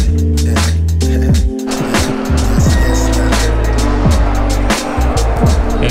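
A 220-horsepower car drives close by, its engine loud and continuous with revs rising and falling several times, and it carries on through the whole stretch with no talking.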